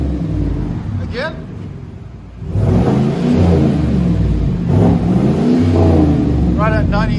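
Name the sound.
2020 Chevy Silverado 5.3L V8 with Flowmaster Flow FX exhaust revving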